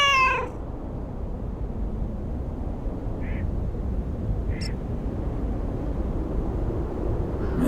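Cat meowing indoors, a nasal cry at the start followed by a couple of short faint mews over a steady background hum.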